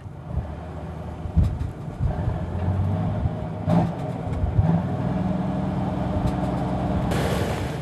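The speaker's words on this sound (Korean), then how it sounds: "다시 한번 엔진을 점검해보는 선장." Fishing boat engine on an octopus-fishing vessel at sea, running while it overheats from a blocked cooling-water line; a steady, loud mid-pitched drone with a few knocks and brief rises, continuous throughout.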